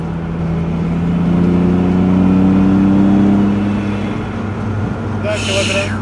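Inside a Mitsubishi 3000GT VR4 twin-turbo, the engine pulls hard with a loud rising drone that swells and then eases off, with voices in the cabin and a brief high whine near the end.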